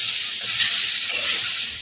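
Masala chickpeas sizzle and hiss in a hot pan while being stirred, with steady frying crackle and a few soft scraping movements, close and fairly loud.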